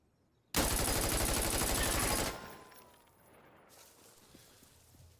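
Sustained burst of automatic rifle fire with a compensator fitted, from the shooter Insurgency: Sandstorm, loud and rapid for about two seconds, then a trailing echo and quiet gear sounds.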